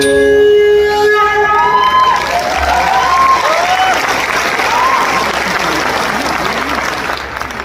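A concert hall audience breaks into loud applause with some cheering as the final notes of a jal tarang performance of classical ragas ring out, the clapping swelling and continuing steadily.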